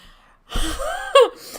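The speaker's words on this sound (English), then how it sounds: "hear a man's heavy breathing in my ear hole" A man's heavy, gasping breath from a character in the video game Medieval Dynasty, one sharp intake swelling up close and loud, then fading into softer breathing.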